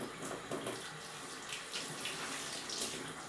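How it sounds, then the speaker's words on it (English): A makeup brush is rinsed under a running tap, the water making a steady, close splashing rush that holds throughout with small swells as the bristles are pinched under the stream. "we're going to rinse it off using that same, almost like a pinching motion, to get all of the soap and all of the product right out of the brush"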